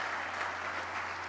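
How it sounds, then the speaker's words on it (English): A stadium groundbreaking crowd applauds the players' mothers with steady, dense clapping that fills the space, continuous and fairly loud throughout. "They deserve a big round of applause."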